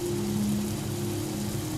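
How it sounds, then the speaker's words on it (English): Steady rain in the horror game Prospice: Anomalo, a dense, even hiss of falling drops over a low sustained hum, close and continuous with no talk. "Is it fucking raining, dude?"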